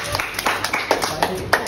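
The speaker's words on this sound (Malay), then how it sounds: "Okey, tepuk tangan." A classroom of students claps during a lesson, a scattered, uneven patter of hands with separate bursts, fairly quiet, with some background voices mixed in.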